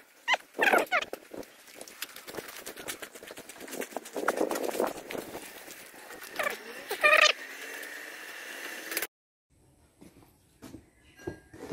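A cat meows and yowls in a few short, sharp cries amid clattering and shuffling noises nearby, then things go quiet with faint background sounds.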